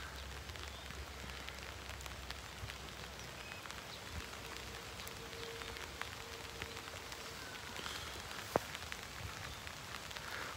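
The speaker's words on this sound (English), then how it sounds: "Whoa, the rain started." Steady rain patters on a surface along an interstate highway near Pskov in Russia's Leningrad Region, a soft even hiss throughout with a faint low hum and one brief sharp tick near the end.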